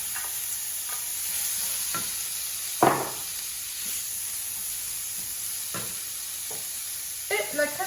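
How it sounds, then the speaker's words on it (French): Mushrooms sizzle in a pan with soy cream close by, under a soft, even frying hiss broken by scattered scrapes and clacks of a utensil stirring, one louder knock standing out midway. "On rajoute donc les champignons."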